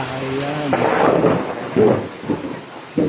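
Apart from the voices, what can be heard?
heavy rain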